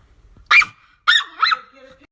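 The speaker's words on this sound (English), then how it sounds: "my dog is barking." A dog barks three times at close range, one sharp bark followed by a quick double bark, in an otherwise quiet indoor setting.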